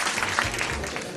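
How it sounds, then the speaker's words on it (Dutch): Brief burst of audience applause at a Dutch-language event honoring two young performers, a dense wash of many hands clapping, loud and close. "Ik wil nog één keer een mooi applaus vragen voor Guido en Ashlyn."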